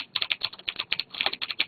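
Rapid clicky mechanical keyboard typing, a dense run of sharp, bright keystrokes in quick succession, close up and alone without voices.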